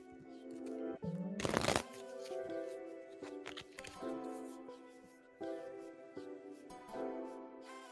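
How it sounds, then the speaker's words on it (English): Tarot cards being shuffled close by in several quick riffling bursts, one loud flurry near the start, with soft handling sounds and a faint voice in the background. "I'm shuffling for you right now."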